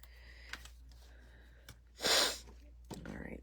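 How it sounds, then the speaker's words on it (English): A person sniffles hard through a stuffy nose during seasonal sniffles: a single loud, breathy inward snort in the middle, between small clicks and faint breaths, close to the microphone. "big sniffle"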